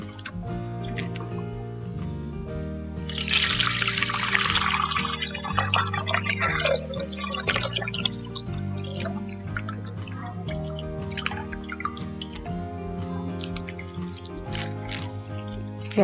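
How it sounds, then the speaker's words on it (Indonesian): One liter of milk pours into a container, a bright splashing stream for several seconds that trails off into drips over a steady musical background. "Sekarang kita akan menuangkan susunya ke dalam wadah."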